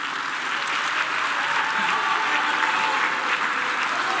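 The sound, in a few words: audience applause for panelists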